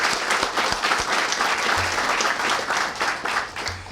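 Applause at a community violence intervention press conference rises as a thick, continuous patter of many hands clapping, steady and fairly loud for the whole stretch.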